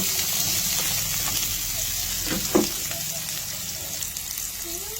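Onion sautés in a pan with a continuous close sizzle and a brief clatter of stirring midway.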